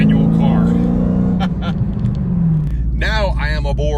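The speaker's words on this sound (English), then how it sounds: "Now I am aboard the Mustang GT featuring the Hellion Twin Turbo kit." Deep, steady engine rumble from a Mustang GT fitted with a Hellion twin-turbo kit with twin 64mm turbos, heard from inside the car as a continuous low drone, with someone talking over it.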